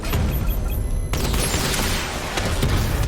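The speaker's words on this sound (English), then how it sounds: "Missile barrage level 2 ready" Missile barrage from the Batmobile in Batman: Arkham Knight, a loud continuous roar of rapid explosions and booms filling the whole stretch without letup.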